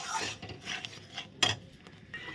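A spoon stirring and scraping paneer and milk masala paste as it fries in a pan, soft intermittent rasping strokes with a few clinks, close and fairly quiet.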